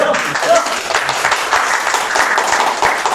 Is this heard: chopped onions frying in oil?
no